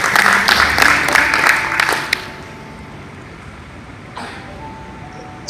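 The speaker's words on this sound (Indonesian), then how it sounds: "Kita tepuk tangan dulu untuk MC" An audience at a multi-event civic gathering in Kupang applauds the MC. There is about two seconds of loud, dense clapping that cuts off abruptly, followed by a quiet room with faint scattered noise.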